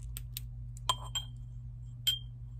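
Uranium glass water glasses with dishwasher damage clink together in a few sharp, bright taps, three or four distinct contacts spaced apart, close but soft over a low steady hum.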